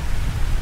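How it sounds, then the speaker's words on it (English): Steady rain falling in Hanoi, a dense, even hiss with low rumble, loud and close with no voices. "It wasn't meant to start raining till about 9 p.m, but here we are."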